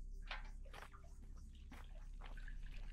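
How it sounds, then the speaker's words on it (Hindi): Water gushes from a hand pump in the video game Kamla, heard as quiet, splashy bursts of pouring that come and go over a low steady background. "पानी की आवाज तो है भाई, आवाज तो है।"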